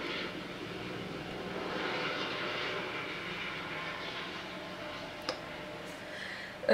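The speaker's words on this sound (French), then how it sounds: "Je vais pas y arriver avec les hélicos." Helicopters flying overhead give a steady, fairly faint droning roar that holds throughout, with no talking.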